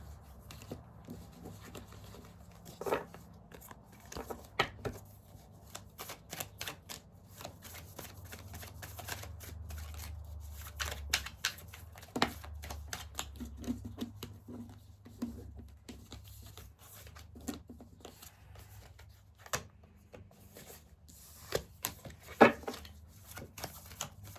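Tarot cards set down one at a time on a cloth-covered surface during a Cancer zodiac reading, making soft, irregular taps and slides at close range, with no talk.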